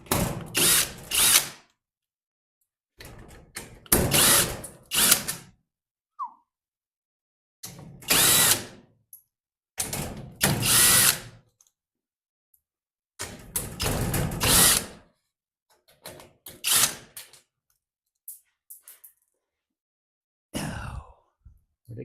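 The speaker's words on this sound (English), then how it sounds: "Got my drill." A power drill removing screws whirs in repeated short bursts, each a few seconds long with pauses between, close by and loud.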